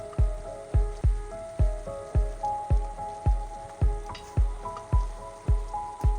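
Egg bhuna is stir-fried in a pan: a spatula strikes and scrapes in a steady, regular rhythm about twice a second, with a soft sizzle underneath, close and alone.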